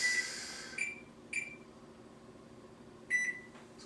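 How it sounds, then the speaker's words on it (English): An oven or kitchen timer being set for a loaf of artisan bread, giving a few short, bright electronic beeps spaced irregularly over a quiet room hum, close by with no voices. "And we will set the timer for 30 minutes."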